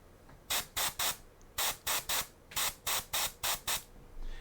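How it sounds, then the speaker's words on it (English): Short bursts of spray paint hiss onto a miniature model, about a dozen quick puffs in groups of two or three, close and fairly quiet with no talk. "All right, so I'm spraying right here."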